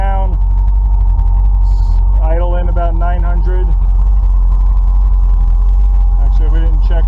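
A Camaro engine with a Brawler carburetor idling around 900 on a test drive, a loud steady low rumble and hum throughout, while someone speaks over it in the cabin.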